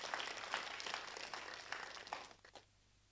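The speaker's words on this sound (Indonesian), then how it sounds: "Bisa berikan tepuk tangan yang meriah bagi Tuhan kita Yesus" A church congregation applauds after a sermon, a brief scattered patter of clapping from a crowd that tapers off quickly into near silence, fairly faint and distant.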